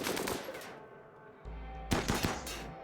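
Gunfire in the colony-building video game RimWorld, with rapid bursts of automatic weapon fire, a pause, then further clustered shots over a low rumble, with no talking.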